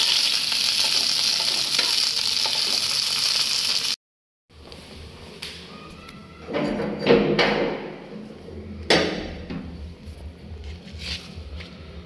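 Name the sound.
quail eggs frying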